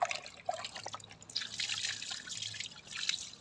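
Water splashes and drips steadily while a dog is bathed and its face washed, a close, continuous wet trickling with a few brighter splashes and no clear talking.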